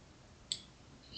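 A single sharp computer mouse click sounds faintly against a quiet room, made while selecting a fill colour in the Scratch editor, followed by a soft second tick near the end.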